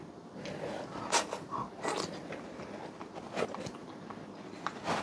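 Someone biting and chewing the soft flesh of a young coconut, close and quiet, with a series of irregular crunchy, wet bites and mouth sounds spaced across the moment, no talking.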